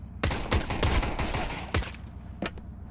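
Rapid bursts of gunfire in Counter-Strike 2 on the Overpass map, loud sharp shots in quick clusters with a few isolated later cracks, no voices.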